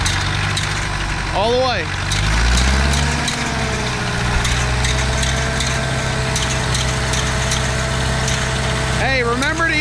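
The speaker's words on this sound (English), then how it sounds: "Now rev her up and drive" An IH B275 tractor engine revving with its PTO driving a three-basket tedder, a loud close rumble that rises and holds while people talk over it.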